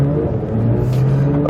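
A Porsche 992 GT3 flat-six with a PDK gearbox revs hard as the car accelerates, a loud, close, brief burst of steady engine drone with no voices.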